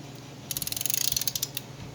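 A ratchet clicks in a quick even run of about twenty sharp close ticks while a band on a Mopar 727 Torqueflite automatic transmission is adjusted, with a quiet moment before and after.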